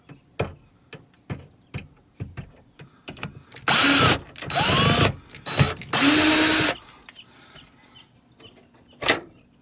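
A power drill backs screws out of an RV Fantastic Fan: a run of sharp ticking clicks, then three loud, close whirring bursts of the drill motor, ending with a few more clicks.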